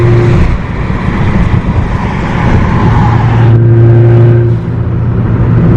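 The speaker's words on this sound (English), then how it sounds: "You can really hear the intake sucking in the air." Hybrid-turbo, tuned Ford Focus ST heard from the cabin as its intake draws in air: a steady, close engine drone with a breathy whir that rises, then settles into an even hum near the end. No one speaks.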